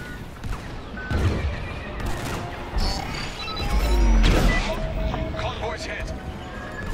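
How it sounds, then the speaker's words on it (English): Missile volley firing in the Star Wars Squadrons space combat game, heard as a series of whooshing launches and crashing impacts over a dense, continuous battle din, with voices present. "the Tormentor is firing another missile volley"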